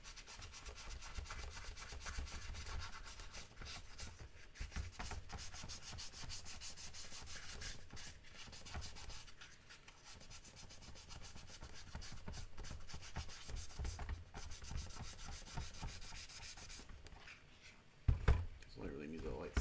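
Steady abrasive sanding of rust spots off metal, continuous and close, with a few sharp knocks near the end.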